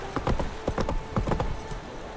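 Horse hooves clip-clop in The Witcher 3, a close, brisk walking rhythm of repeated hoof strikes on hard ground with no talk over them.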